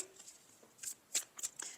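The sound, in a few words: shuffling oracle cards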